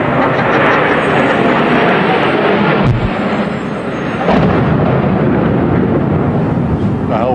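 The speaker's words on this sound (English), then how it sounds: "It sounded like a plane crash." Plane crashing into a tower in New York on the morning of the 9/11 attacks, heard as a heavy rumbling roar with a deep booming thud partway through, loud and continuous throughout.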